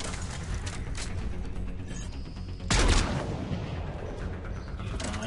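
Gunfire and combat noise from the video game Mass Effect 3, a steady dense clatter of shots and mechanical effects with a louder burst near the middle, no talk.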